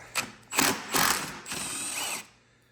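A ratchet removes bolts from the fuel tank of a Wheel Horse garden tractor, several close clicking bursts in quick succession that end in a longer ratcheting run.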